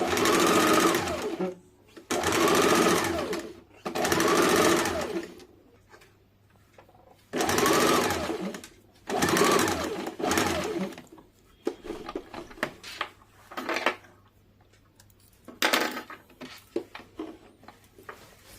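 A sewing machine stitches a blouse in repeated bursts of fast, steady whirring, each lasting one to two seconds with brief pauses between, loud and close with a faint hum underneath.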